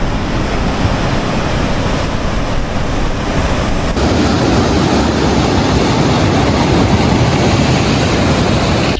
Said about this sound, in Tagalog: Lakas pa ng alon ngayon dito.